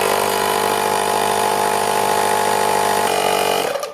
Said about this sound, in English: To inflate my tires, I use the AirHawk Pro.